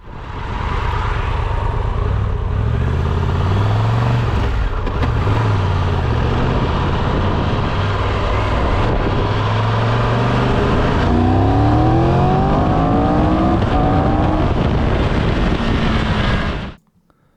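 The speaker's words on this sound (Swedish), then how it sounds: "För någonting som jag gillar med den här hojen, det kan jag säga det nu, det är ju faktiskt motorljudet." A motorcycle engine drones loudly while riding, rising and falling in pitch as it revs through gears under steady wind rush, then cutting off abruptly at the end.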